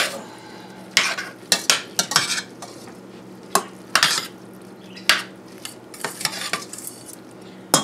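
A large spoon stirs a cauliflower bake mixture with pepper and garlic powder in a bowl, giving repeated scraping and clinking strokes at an irregular rhythm, close and fairly loud, with no talking.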